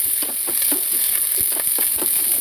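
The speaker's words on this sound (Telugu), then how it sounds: "ఇదిగోండి బాగా తిప్పేసేసుకొని మూత పెట్టుకుంటే త్వరగా మగ్గుతాయి అన్నమాట" Ivy gourd and green chillies frying in a pan while being stirred, a steady loud sizzle with repeated scraping strokes of the spoon running through it, close up and with no talking.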